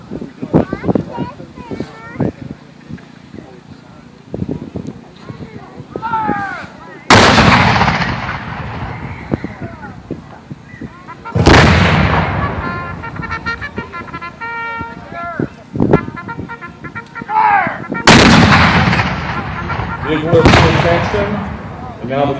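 Mountain howitzers boom at a Civil War reenactment, three loud, sharp blasts that ring out and decay, with a spoken voice narrating between the shots.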